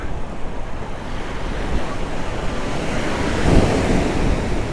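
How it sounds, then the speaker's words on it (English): Ocean waves wash up a sandy beach, a steady loud roar of surf with strong wind buffeting the microphone and a wave building and crashing near the end. "Oh no, this wave's gonna get us."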